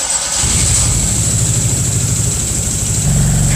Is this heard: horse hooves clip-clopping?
no